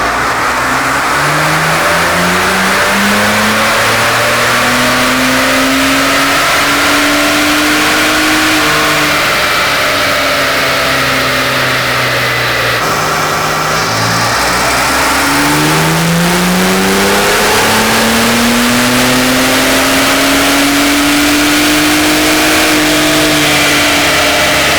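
Ford Bronco Raptor engine revving loudly on a dyno, rising steadily through the gears in two long pulls with a brief drop between them, close and continuous.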